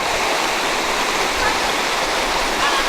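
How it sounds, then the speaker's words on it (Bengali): Stream water rushing down from the hills on Talamali table top mountain in Koraput, a steady, loud, broadband flowing roar that continues without a break. "জল সোজা আসছে ওদিক থেকে"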